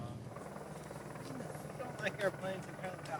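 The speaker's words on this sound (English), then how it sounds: "that's a Apache helicopter approaching" An Apache helicopter's rotor thumps faintly in the distance at a small airfield, behind nearby chatter and a few short chirpy sounds.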